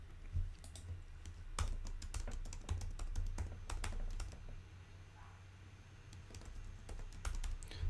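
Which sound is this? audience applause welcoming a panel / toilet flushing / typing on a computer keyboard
typing on a computer keyboard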